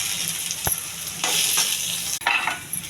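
Onions, salt and tomato frying for upma in a pan, a steady close sizzle with a few sharp spoon scrapes and clinks against the pan.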